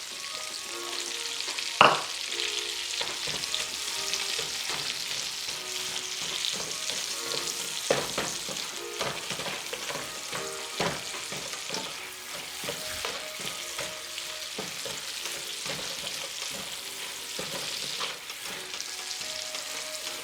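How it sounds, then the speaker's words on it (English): Onion frying in a pan, a steady close sizzle with occasional stirring clicks and scrapes, opening with a sharp clatter as it goes in. "Now let's add the onion."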